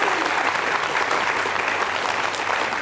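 An audience at a televised book quiz show semifinal claps in sustained, dense applause, loud and even throughout, with no voices rising above it.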